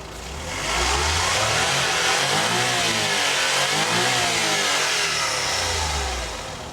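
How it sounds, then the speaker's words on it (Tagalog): A Suzuki Samurai wagon's turbo engine revs up close by, climbing in pitch, holding, then dropping back toward idle, loud and steady with no talk over it. "So try natin yung power ng ating makina."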